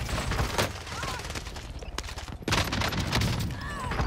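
Full-auto Streetsweeper shotgun in the video game Warzone firing stopping power rounds, a loud rapid fusillade of booming shots across the whole clip with a brief lull midway and a voice talking over the blasts.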